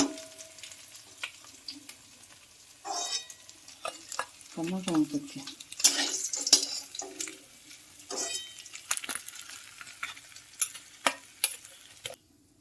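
Fish heads are lifted and stirred in a pan, and the scraping and sizzling come in irregular bursts over a quiet background, with separate knocks and clatters close by.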